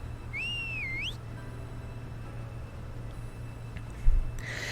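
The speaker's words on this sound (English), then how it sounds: "I put a hand up to the mask and give a sharp whistle." A single sharp, rising-and-falling whistle blown through a mask in the indie game Midnight on the Milky Way, clear and near over a low steady ambient hum, followed by quiet background and a brief thump.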